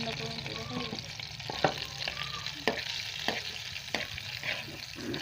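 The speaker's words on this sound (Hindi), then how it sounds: "और इसे अब हम गरम करेंगे। ये देखिए, अब इसके अंदर हम जीरा डाल लेंगे।" Cumin seeds crackling in hot oil in a pan, a steady frying hiss punctuated by several sharp spatula taps and stirs, close and moderately loud, no talk.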